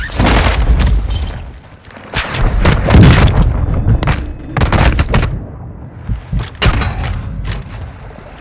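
Repeated loud mortar-strike blasts in Call of Duty: Warzone 2 on Ashika Island, heavy booming impacts one after another with rumbling tails and crackling debris, close and dense across the whole stretch.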